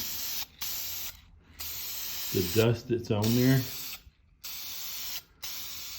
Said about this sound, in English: now when you spray this on